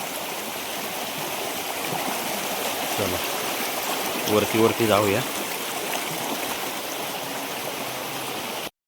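A stream in the Konkan at night, where crabs are hunted, flows with a constant loud rushing and trickling of water, while someone speaks briefly over it.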